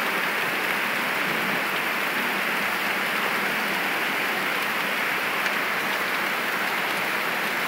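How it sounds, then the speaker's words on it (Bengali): Heavy rain pours steadily as a dense, unbroken hiss of drops drumming on surfaces, close and constant throughout with no voices. "কেমন জোরে জোরে বৃষ্টি পড়ছে"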